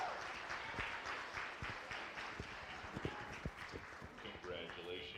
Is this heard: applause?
yes